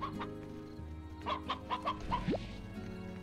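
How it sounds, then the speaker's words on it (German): Chickens in the video game Slime Rancher clucking repeatedly in short close calls over a droning game soundtrack, with a rising squawk near the end. "Das bunte Huhn wehrt sich."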